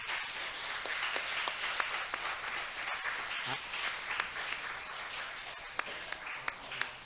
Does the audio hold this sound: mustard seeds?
no